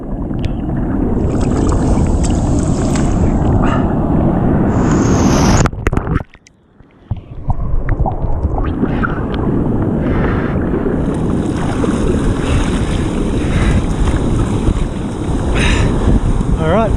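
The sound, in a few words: fishing kayak paddling through surf waves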